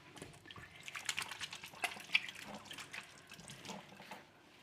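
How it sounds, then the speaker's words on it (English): Hands are washed under a running kitchen tap while preparing homemade Filipino fish balls, with a steady splashing water stream, scattered drips and hand movements close by and no talking. "I'll just wash my hands"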